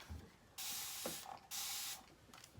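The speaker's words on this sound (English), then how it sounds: "So I'm going to just spray this real quick." Two quick bursts of hissing cleaner spray from a spray bottle, each lasting about a second, close by and fairly quiet, with small clicks around them.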